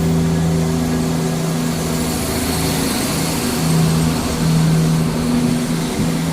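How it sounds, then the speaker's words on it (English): Scotrail train, the 10:46 Waverley to Cowdenbeath service of four carriages, pulling out of Edinburgh Haymarket station: a steady, loud diesel engine drone with sustained low tonal hum, rising slightly midway, no voices. "Departing out now is the 10:46 Scotrail service from Edinburgh Waverley to Cowdenbeath"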